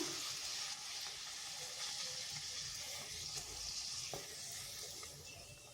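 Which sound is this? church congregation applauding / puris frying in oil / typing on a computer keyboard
puris frying in oil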